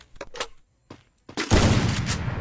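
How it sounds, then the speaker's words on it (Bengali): Sniper rifle shots in a mobile shooter game ring out as a few sharp, separated cracks, followed by a dense, loud burst of gunfire and chaotic in-game action. "এই যে পাশে ফায়ার করলাম কিন্তু লাগলো না"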